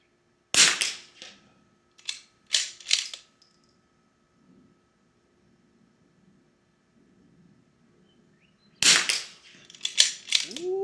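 A Bergara B14R rifle fires at targets, sharp cracks with faint ringing hits, a few shots spaced out early, then a long quiet gap and another quick cluster, heard at moderate distance.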